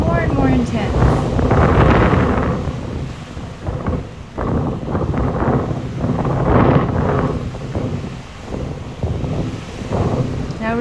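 Strong gusty wind on a mountain trail in Monteverde, Costa Rica, buffets the microphone hard. It roars in loud, surging waves that rise and fall all the way through.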